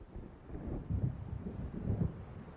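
Low, rumbling thunder rolls in from a distance as a storm approaches in the Alan Wake video game, swelling in two soft surges over a faint windy, rainy backdrop, with no voices.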